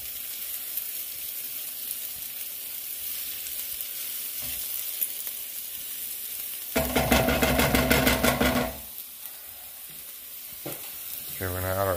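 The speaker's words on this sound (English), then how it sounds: "see the onions are starting to caramelize a little bit?" Onions sizzling and frying in a pan for lazy tacos, a steady hiss that rises into a louder crackling burst midway before settling back, close up, with no voice over it.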